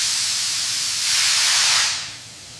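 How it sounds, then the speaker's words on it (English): Steam hisses steadily while banana leaves are softened in a high-tech processing factory, a dense loud rush that swells briefly then eases off toward the end. "This steam softening process is crucial, allowing the leaves to become pliable without losing their vibrant color."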